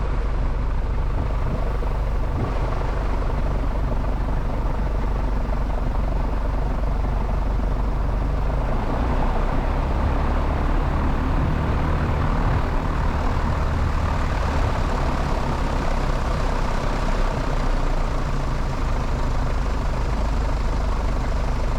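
A light aircraft's engine drones steadily and loudly during taxi at an airfield, a continuous rumbling hum that fills the whole stretch without pause and with no talk over it.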